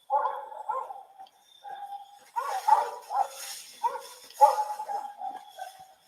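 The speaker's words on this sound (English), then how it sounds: "Listen at those dogs." Several dogs bark in repeated, overlapping bursts. The barking is fairly close and prominent, with brief pauses between volleys.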